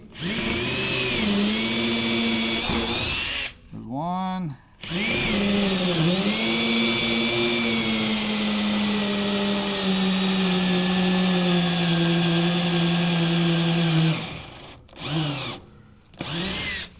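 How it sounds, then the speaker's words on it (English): A battery power drill whines steadily as it bores out holes in metal on a Trail Rider 570 trailer, pitch sagging under load, stopping briefly twice before running long again, then a few short bursts. "we're going to be drilling out these holes"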